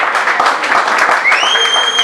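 Wedding guests at a civil marriage ceremony applaud, a dense wash of clapping with a faint high tone sustained near the end.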